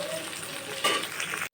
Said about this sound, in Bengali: বেগুনটা আমি নাড়াচাড়া দিয়ে দেবো।